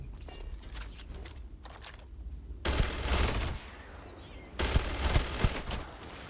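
Sustained bursts of rapid gunfire in the space game Starfield, loud and close, breaking off briefly and then resuming over a low rumbling background.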